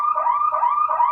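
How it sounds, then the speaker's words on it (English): A synthetic alarm sound effect rings out loud and alone, a steady electronic tone that warbles up and down in repeating cycles, like a car alarm or siren. "I'm going to hit the patently woo-woo alarm"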